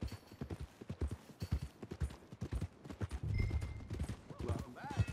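Rhythmic clip-clop of horse hooves trotting steadily in Red Dead Redemption 2, with a brief whinny near the end and scattered game sounds around it.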